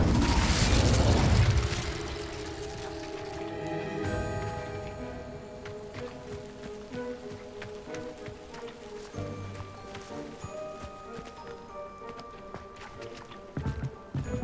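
Confringo and Incendio spells cast in Hogwarts Legacy, opening with a loud blast that gives way to sustained fiery crackling and rumbling combat noise, with footstep-like thuds and a renewed hit near the end.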